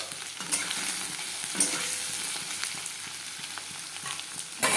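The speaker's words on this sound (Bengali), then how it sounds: "পটলটা একটু ভেজে নিই" Pointed gourd and potato fry in a pan with a steady, close sizzle and occasional scrapes of stirring, with no talking.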